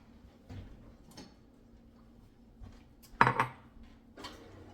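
Kitchen items being handled: a bowl, scale and spoon set out with dish and cutlery clinks, including one sharp clattering knock near the middle and softer taps around it, close and fairly quiet.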